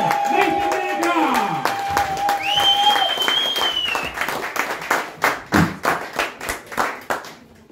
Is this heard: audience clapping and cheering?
yes